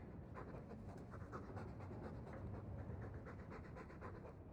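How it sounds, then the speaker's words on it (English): A dog in Dragon Age II pants rapidly and steadily, close by, with quick rhythmic breaths throughout. "All that noisy dog breath, day in, day out."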